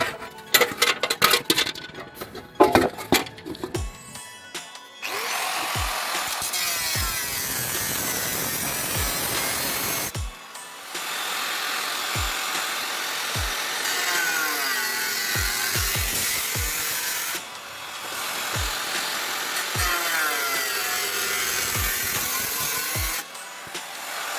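A power cutting machine slices through a metal bucket being made into a stove, with a rough rattling start and then long sustained grinding passes broken by brief pauses and sharp low knocks.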